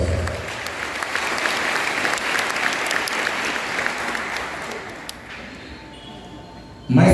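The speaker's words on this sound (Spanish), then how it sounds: "Fuerte los aplausos." A crowd at a council of elders gathering in Caxhuacan, Puebla, Mexico, applauds steadily for several seconds, the clapping slowly thinning and fading before a sudden loud burst at the very end.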